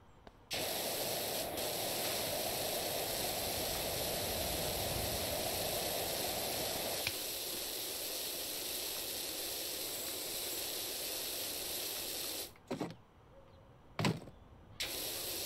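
Steady broadband hiss of a pressure washer jet spraying in PowerWash Simulator, running continuously for about twelve seconds with a slight change partway, then cutting out into short bursts and brief spurts near the end.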